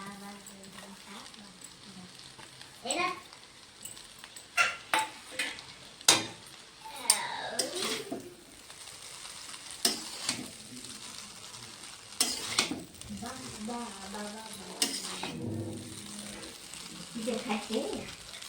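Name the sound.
vegetable chow mein frying and being stirred with fried eggs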